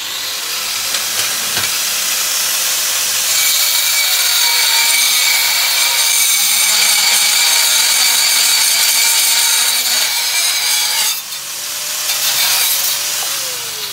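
A saw cuts steadily through an engine mount part for a Canta LX, with a continuous rasping hiss that holds for about ten seconds, pauses briefly, then starts again. Lawnmowers hum faintly in the background.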